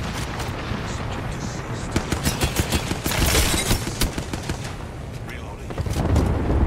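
Hemlok rifle fired in single shots in Apex Legends, a fast run of sharp cracks with other gunfire in the background, under excited team chatter.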